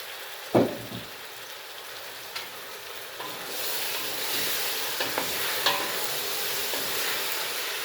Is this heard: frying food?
yes